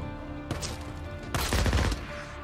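Gunfire in Days Gone, a quick burst of rapid shots, loud and close, then a short pause before a heavier volley, with no talk.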